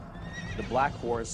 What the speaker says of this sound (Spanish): Y vi aparecer un caballo negro, cuyo jinete tenía una balanza en la mano.